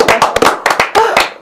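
Studio guests at a live political broadcast applauding, a short burst of loud, close, uneven hand claps.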